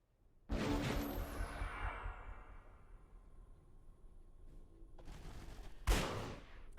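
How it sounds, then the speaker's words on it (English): Fire pistol gunfire from a battle in the fantasy strategy game Age of Wonders 3 comes as a loud sudden burst of shots that trails off with a whoosh, then two more sharp blasts later, with no voices. "Little fire pistol action."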